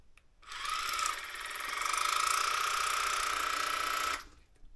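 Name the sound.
electric toothbrush or water flosser machine running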